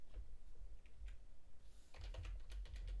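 Quiet typing on a computer keyboard, a loose run of soft clicks that grows into a quicker, denser burst near the end, close up with no voices.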